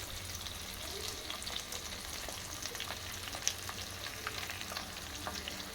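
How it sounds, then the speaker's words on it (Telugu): Crabs fry in a pan over a low flame, giving a faint, even crackling sizzle dotted with small pops throughout. "ఫ్రై చేయాలి పీతల్ని వన్ మినిట్ ఇలా ఫ్రై చేసుకున్న తర్వాత"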